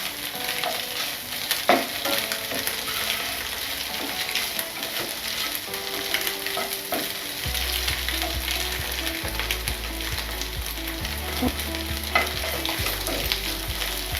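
Chicken fried rice stir-fried in a pan at a Hyderabad street food stall, with a continuous close sizzle, repeated scraping and clanking of the utensil, and steady background hum, no talking.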